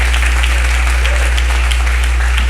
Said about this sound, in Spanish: aplauda la presencia de Dios.